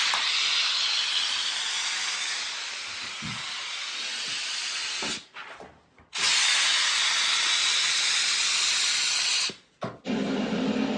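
A Karcher steam cleaner blasts steam against a car window. The hiss is steady, loud and close, and it cuts out briefly twice before resuming.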